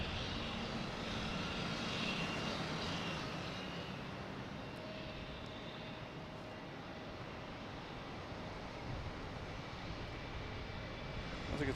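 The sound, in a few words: American Airlines Embraer E175 jet heading to LaGuardia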